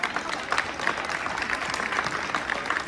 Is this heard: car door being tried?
no